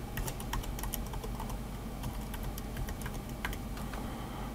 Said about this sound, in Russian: Ввожу свою электронную почту.